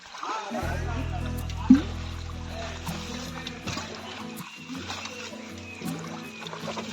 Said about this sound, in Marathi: आता उपसाची सुरुवात झाली